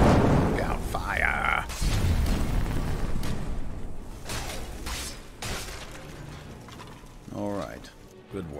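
Fire bursts and blasts in Skyrim SE, heard as loud whooshing, crackling eruptions mixed with shattering and clanking, while a voice sounds briefly in between.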